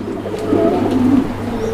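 Pigeons at a farm housing many birds, a close, soft, continuous low cooing that rises and falls, with no talk over it.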